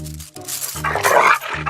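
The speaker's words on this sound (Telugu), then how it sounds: "ఇది కరిచే కుక్క అస్సలు అరవదు" A dog in a comedy scene from the Telugu film Namo Venkatesa makes short, close canine sounds over a low, steady background.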